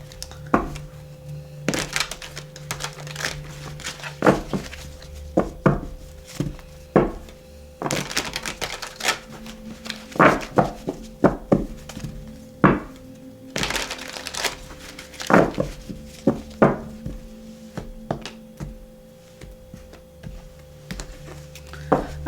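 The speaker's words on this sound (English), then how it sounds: "I'm going to shuffle this real quick." A deck of tarot cards being shuffled close up on a table, giving irregular bursts of papery riffles and sharp snaps and taps, with no talking.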